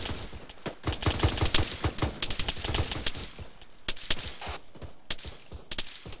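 Airsoft gunfire during platoon training outdoors, with rapid, irregular volleys of sharp cracks from several shooters at mid distance, some single shots and some bursts. No voices are heard.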